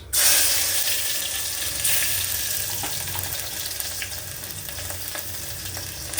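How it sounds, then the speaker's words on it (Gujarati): Loud, crackling sizzle of garlic and chillies hitting hot oil as a tempering, bursting at the start and then settling into a steady spitting hiss with occasional pops. "લસણ અને મરચાંનો વઘાર થઈ ગયો છે."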